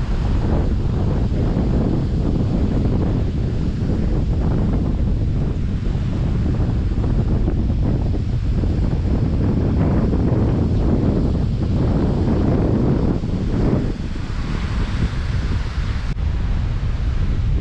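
Sea waves wash against the shore in Sardinia while strong wind buffets the microphone, a steady loud roar with surging swells, no voices.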